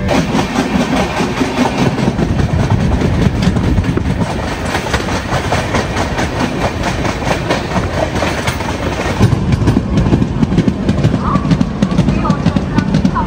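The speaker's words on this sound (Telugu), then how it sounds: "సో ట్రైన్ సామర్లకోట జంక్షన్ కి వచ్చింది" Tirumala Express rolling along the rails, a loud, continuous rumble with rhythmic clickety-clack from inside the train, steady throughout with a slight shift near the end.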